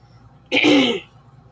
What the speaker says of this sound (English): I'm having a hard time clearing my throat.